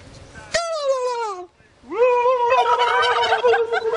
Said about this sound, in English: the turkeys are chiming in